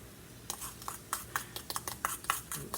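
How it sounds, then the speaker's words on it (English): Soft clinks and scrapes of a utensil stirring baking soda and vinegar in a bowl, in quick irregular strokes, close and fairly quiet. "Stir it up. It's sizzling up."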